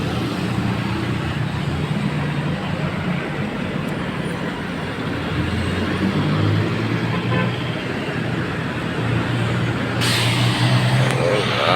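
A bus passes along a busy road crowded with vehicles and motorbikes. Dense traffic rumble and engine drone hold throughout, with a sharp hiss of air brakes near the end.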